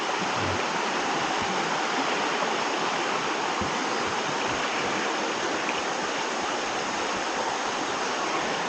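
Free-flowing clear stream water at a nature campsite in Liliw, Laguna rushes steadily and loudly, a constant broad wash of flowing water with no pauses.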